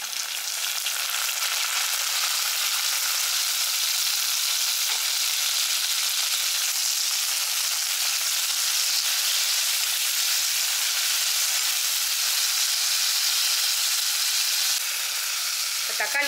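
Tomatoes and onions sauté in a pan for a kurma with a steady, even sizzling hiss. The frying holds at a close, constant level from start to finish with only faint stirring.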